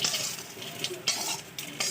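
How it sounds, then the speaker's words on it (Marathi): Spices crackle and sizzle in hot oil for a soya chunk curry tempering, broken by short bursts of stirring and scraping in the pan. "आता भाजीला फ्राय फोडणी देऊया"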